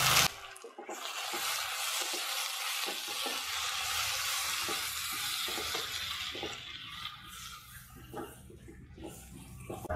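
Prawns frying in a pan with ginger, garlic and salt for a Kerala-style prawn roast, giving a steady, loud, close sizzle with faint scraping stirs throughout, no talking.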